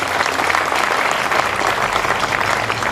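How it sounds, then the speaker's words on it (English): Steady applause fills the crowd at an outdoor city band concert, a thick, continuous patter of many clapping hands that holds evenly for a few seconds with no voices. "but let's give her a big round of applause anyway."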